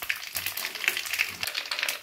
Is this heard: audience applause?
no